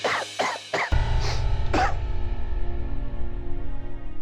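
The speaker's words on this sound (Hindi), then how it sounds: "खांसी जम गई है अब छाती में" Several short, harsh chesty coughs come in quick succession, followed by a steady low hum.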